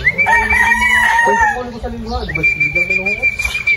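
A gamecock rooster crows nearby, loud and drawn out, twice in a row with a short gap between, while some clucking and a little background chatter sit underneath.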